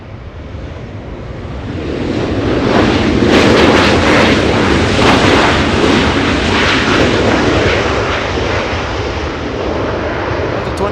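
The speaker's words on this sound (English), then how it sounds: "Now we go to Southwest Airlines getting a move on, flying to Texas, El Paso, Texas" A Southwest Airlines jet takes off at Los Angeles International Airport, bound for El Paso, Texas: a loud, sustained broadband engine roar that swells over the first few seconds and holds steady, with no talk over it.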